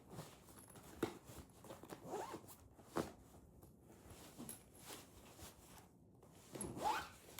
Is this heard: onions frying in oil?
no